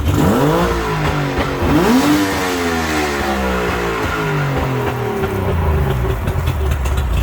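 A Mercury 60hp outboard motor on a Bass Tracker boat revs up loud and close, its pitch sweeping up and dropping back through several throttle blips over a steady running drone.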